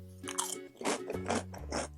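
Crunchy cola-flavoured corn puffs being bitten and chewed close up, a few crisp crunches in quick succession with no talking.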